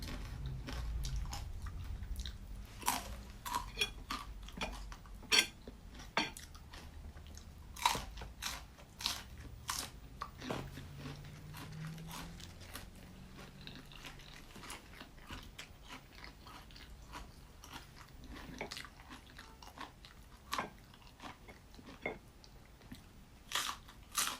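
Crispy ground chicken is bitten and chewed close to the mouth, giving a long run of irregular sharp crunches and softer chewing over about twenty seconds, with no talking.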